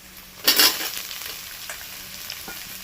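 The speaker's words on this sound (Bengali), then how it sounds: "এইবার এখানে যে সয়াবিনটা নিয়েছিলাম সয়াবিনটাকে এর মধ্যে দিয়ে ভেজে নেব" Soaked soybean chunks hitting a pan of fried onions for chicken kosha and soya rice, a loud sizzling burst that settles into steady, softer frying with light stirring scrapes, no voices.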